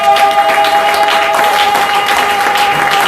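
A church congregation breaks into loud, continuous clapping that fills the room, with a steady hum held underneath throughout.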